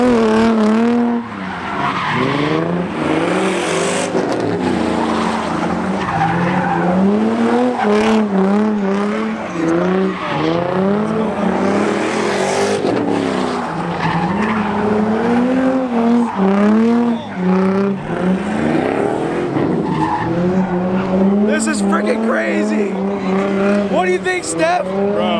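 Supercars skidding on a freeway, sending up tire smoke, with loud continuous tire squeal and wavering engine revs for the whole stretch, while voices and crowd noise mix in underneath.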